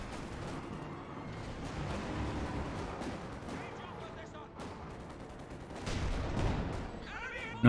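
Gunshots and battlefield fire in Company of Heroes 2 during a match involving a Valentine tank, irregular distant thuds and cracks over a rumbling backdrop, with a sharper burst near the end and talk underneath.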